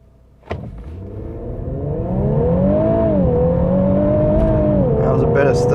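A 2018 Infiniti Q50 Red Sport launches from standstill with traction control off, a sharp initial thump followed by the engine note climbing steadily through a smooth rising pull, loud and close from inside the cabin.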